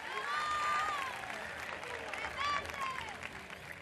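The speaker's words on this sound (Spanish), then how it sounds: "Fuerte el aplauso." An audience at a drag queen gala in Telde applauds, a crowd's clapping rising and falling beneath amplified voices and cheering, with sustained whistle-like tones sounding over it.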